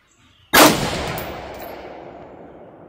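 A single loud rifle shot firing AAC 77-grain 5.56x45 NATO open tip match ammunition, a sharp crack followed by a long fading echo, close to the microphone.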